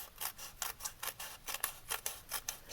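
Scissors snip through thin strips of washi tape for a handmade card, about a dozen crisp, quiet cuts in a steady quick rhythm, close by with no talking.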